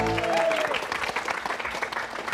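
Studio audience on a comedy game show bursting into lively applause, dense clapping that stays loud and steady, with a brief vocal shout at the start.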